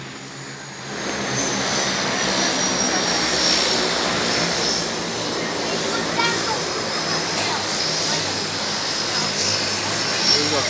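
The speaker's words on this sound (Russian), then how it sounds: "сейчас полетим, ребят, на вот таком самолетике" A propeller seaplane engine in the Maldives, near Malé, starts after a second and then drones loud and steady throughout, with people talking over it.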